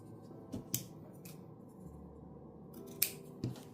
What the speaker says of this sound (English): And then I want to cut my little ribbon tails.